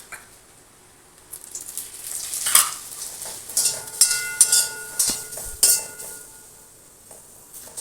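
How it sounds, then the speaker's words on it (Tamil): Tamarind and coriander seeds roast in oil for a coriander thokku. The start is quiet, then a crackling sizzle rises with repeated stirring scrapes and bursts up close. "இந்த மாதிரி வரமல்லியை புளி வறுத்துக்கலாம்"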